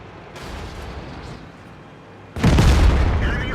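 A tank cannon in World of Tanks fires with a sudden loud, close boom partway through, following a quieter stretch of low battle rumble.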